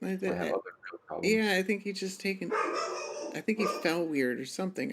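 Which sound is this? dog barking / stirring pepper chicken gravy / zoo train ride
dog barking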